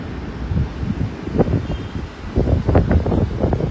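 Steady sea wind blows and buffets against the microphone near the shore in Puri, rumbling in low gusts with no voices.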